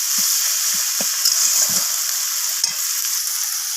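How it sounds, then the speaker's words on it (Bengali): Tomato, capsicum and onion with added salt frying in a pan: constant bright sizzle with a series of short knocking, scraping stir strokes at an uneven pace, close up. "তো লবণটা দিয়ে আবারও ভেজে নিচ্ছি নাড়াচাড়া করে।"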